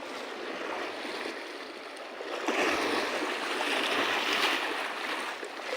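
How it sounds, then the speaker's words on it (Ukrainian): Ocean waves breaking on a rocky beach at Los Abrigos, Tenerife: a continuous broad roar of surf that swells louder midway as a wave crashes, then stays strong and close. "ось така хвиля"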